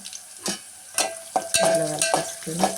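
Ginger garlic paste frying with onions in a pan for a gongura tomato curry, a steady sizzle broken by several scraping stirs, with no voices.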